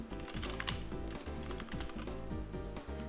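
Rapid typing on a computer keyboard, close and continuous, with brisk irregular keystroke clicks set over a steady musical background.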